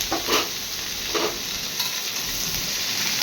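Baby potatoes fry in mustard oil, a loud, close, continuous sizzle with a couple of scraping stir strokes early on, and no talking.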